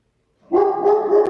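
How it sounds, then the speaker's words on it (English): A pet dog barks once indoors, a single loud, close bark that starts abruptly after a moment of silence and rings briefly. "that's my dog again."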